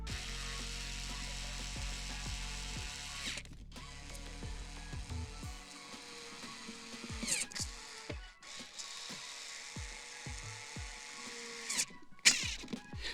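A screwdriver drives front chassis screws into the metal chassis of an old guitar amplifier, clicking and ratcheting in close, uneven bursts, with a few louder knocks and no talking.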